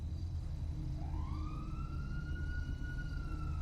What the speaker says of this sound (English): Oh god, I hear the siren.